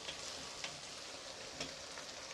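Tomatoes added to onions frying in a karahi: a steady, faint, hissing sizzle with a couple of soft stirring clicks, close and alone, no voices.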